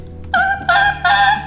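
Three short, bright reedy squawks from a saxophone mouthpiece blown alone, nasal and buzzy like a party horn, each lasting a fraction of a second.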